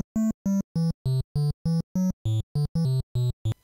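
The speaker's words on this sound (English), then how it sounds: "The third voice can only produce a triangle and is typically used for the low bass notes." NES triangle-wave channel plays a sequence of about a dozen short, evenly spaced low bass notes, soft-edged and hollow, alone without talk.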